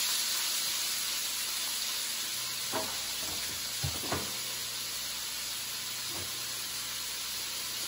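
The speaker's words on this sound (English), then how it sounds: "I'll do us a little stir fry. So let it get hot." Oil heating in a pan with stir fry ingredients for southwest egg rolls gives a faint, steady hiss, broken by a few soft clinks and knocks of a utensil, with no talking.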